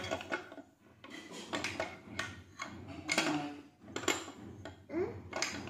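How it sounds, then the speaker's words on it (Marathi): Metal clinks and clatters as a pressure cooker whistle is handled and turned by hand, a series of light, close, irregular taps and scrapes against the lid with short pauses between them. "कुकरची शिट्टी फिरती का बघ. हाताने बघ बर फिरती का?"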